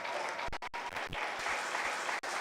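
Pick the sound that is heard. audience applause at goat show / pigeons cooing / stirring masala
audience applause at goat show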